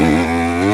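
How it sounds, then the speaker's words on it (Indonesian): A motorcycle with a leaking exhaust blares close and loud, its engine note wavering slightly in pitch through a short, harsh burst. "Bocor knalpotnya."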